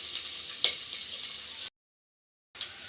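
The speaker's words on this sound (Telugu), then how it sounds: "ఇప్పుడు ఈ అల్లం అంతా కూడా చక్కగా పచ్చివాసన పోయేకు ఫ్రై చేసుకుందామండి." Ginger pieces frying in a pan give off a soft, steady sizzle with a few sharp crackles and pops, broken by a short silent gap before the sizzling resumes.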